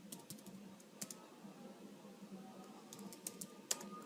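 Soft, faint taps of typing on a computer keyboard in a quiet room, spaced into short irregular runs of clicks with no talking.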